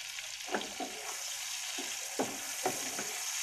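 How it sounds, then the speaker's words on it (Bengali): Raw mango pickle cooking in a pan: a steady soft sizzle runs throughout, broken by a few short spatula strokes, close and alone. "ঢাকনাটা তুলে নেড়ে ছেড়ে দেব"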